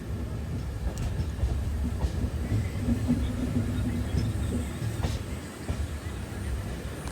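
Inside the Prashanti Express, train no. 18464, running on rails near Penukonda Junction, a steady low rumble of the carriage with faint rhythmic wheel clatter, continuous and close.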